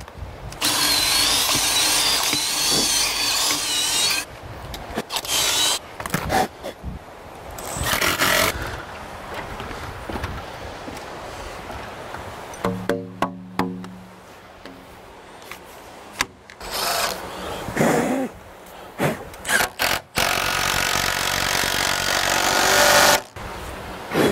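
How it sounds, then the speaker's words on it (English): Loud, close power drill noise cutting into wood while building a patio cover, with bursts of drilling and grinding that start and stop repeatedly over a long stretch. "It's nice having a drill motor for every bit."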